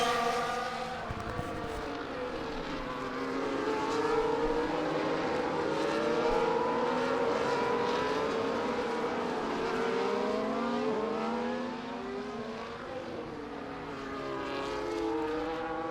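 Sim race cars circulate in a pack behind the safety car at Bahrain, a steady droning chorus of engines whose pitches rise and fall together, continuous and moderately loud with no talking.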